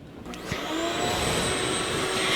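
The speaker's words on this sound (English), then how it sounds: "Turn on the vacuum, please." A vacuum cleaner switches on after a couple of clicks and settles into a loud, steady whine that runs on without a break, close to the listener.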